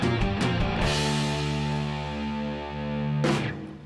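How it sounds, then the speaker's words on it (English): Thick, distorted electric guitar chords ring out loud and sustained, layered with a slightly doubled, wide sound, with a brief choppy strum at the start and end. "The double track guitars are doing the work by themselves."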